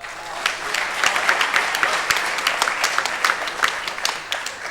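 Audience applause in a staged drama performance, a steady wash of many hands clapping with sharp individual claps standing out, fairly loud and continuous throughout.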